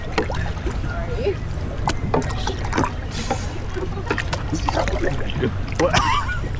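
Wooden explorer canoe paddled on open water at Disneyland's Davy Crockett ride, a steady wash of water and splashy paddle strokes repeating under crowd chatter and a caller counting strokes.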